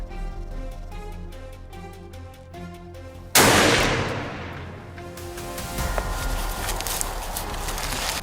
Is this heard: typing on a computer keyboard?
no